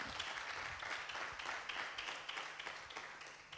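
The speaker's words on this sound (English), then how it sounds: "I'd like to ask the people in the house for a big applause for the organizers." An audience at an art and tourism film festival applauds, a dense, steady wash of many hands clapping at a fair distance that continues throughout without talk.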